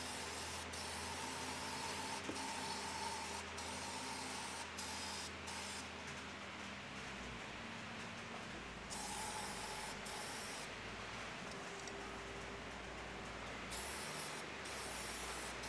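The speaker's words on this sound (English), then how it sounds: "I'm just using some degreaser at the moment just to kind of clean this off" Degreaser sprayed onto the sump of a Chevrolet Cruze engine during a leak repair, a steady close hissing spray running continuously with brief pauses and shifts in intensity.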